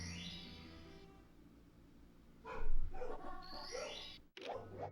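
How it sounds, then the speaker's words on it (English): Dogs barking excitedly in a room downstairs, muffled and somewhat distant, a cluster of barks mid-clip and more near the end over steady game sound. "Dogs once again going crazy downstairs."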